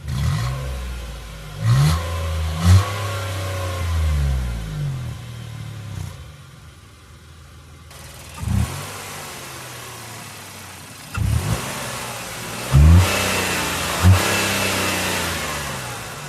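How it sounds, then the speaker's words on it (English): Several quick revs from a 2016 Nissan Note N-TEC three-cylinder engine rise sharply and drop back to a steady idle, with a brief quieter lull midway before more blips follow. "It's actually not a bad sounding 3-cylinder engine."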